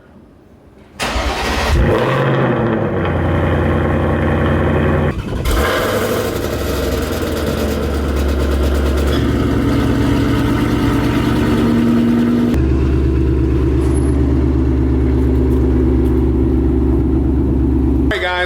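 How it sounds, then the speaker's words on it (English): A Ford Mustang engine cold-starts with a sharp crank and catch, flares loudly, then settles into a high, steady fast idle with a few step changes in pitch, close and alone. "Cold start!"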